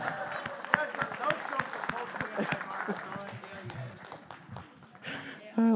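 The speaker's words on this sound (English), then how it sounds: "A big round of applause for Sylvester" Scattered clapping from a small audience at a virtual fundraiser follows a comedy act, uneven and moderately quiet, with voices mixed in and a louder voice breaking in at the end.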